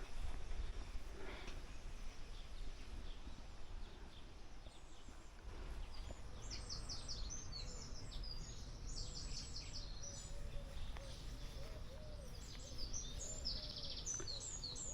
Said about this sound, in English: That's all you can hear is the bird song.